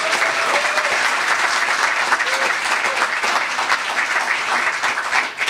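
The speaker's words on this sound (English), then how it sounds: "How about a round of applause for the whole team?" Audience applause at an open mic farewell event in a cannery museum, a sustained dense wash of many hands clapping at even loudness throughout.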